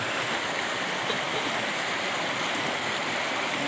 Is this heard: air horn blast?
no